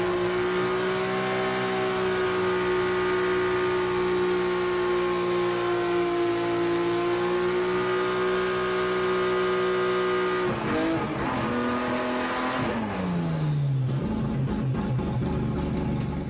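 A drift car doing a long burnout, a sustained high engine drone with a steady tire squeal over it, then the pitch dips and wavers and the revs drop near the end, loud and continuous.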